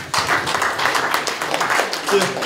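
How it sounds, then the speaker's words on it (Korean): Audience clapping at a Korean book launch event, a brief burst of steady, fairly close applause with voices mixed in. "큰 박수 부탁드리겠습니다."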